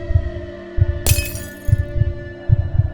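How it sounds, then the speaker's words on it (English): Glass shattering in another room within an animated story, a single sharp crash breaking over a low rhythmic pulsing background, fairly close and loud. "she suddenly heard something shatter from the other room"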